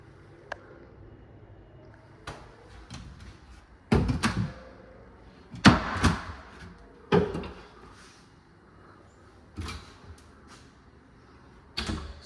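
Cabinet doors in a house are opened and shut in a quiet room, several separate wooden thunks and knocks landing at irregular intervals, a couple of them louder slams, with no talking.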